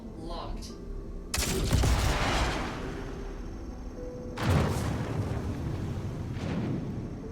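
Viper missiles launched from a ship in the Star Citizen space game, two loud roaring whooshes a few seconds apart, each with a sharp onset and a long fading rush, over a steady engine hum.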